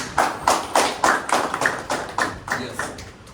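A small audience claps in a steady rhythm of about eleven distinct, fairly loud claps, evenly spaced in a room at a direct selling business presentation, with no talking over them.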